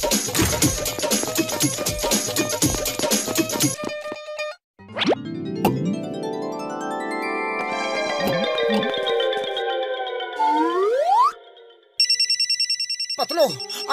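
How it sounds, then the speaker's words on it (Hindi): A telephone rings with repeated electronic trills, mixed with cartoonish boings and sliding tones, bright and loud, then ringing resumes briefly near the end. "पहले फोन तो उठाओ।"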